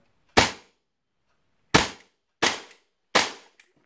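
WE CP Walther P38 airsoft gas pistol firing four sharp, snappy shots, one then a pause followed by three in quicker succession, each with a short decaying tail, close and loud with no talk.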